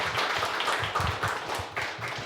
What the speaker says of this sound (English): So one more clap for Georgie from Pipedrive.